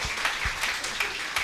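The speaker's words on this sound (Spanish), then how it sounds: "Un aplauso caluroso para esos compañeros" An audience at a university gathering claps for fellow students and directors in a brief, steady patter of applause with a few sharper individual claps standing out.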